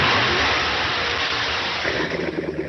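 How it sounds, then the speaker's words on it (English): A Corvette sports car engine roars loud and close, a dense continuous growl that eases slightly toward a pulsing idle at the end. "That's the sound of America's only sports car."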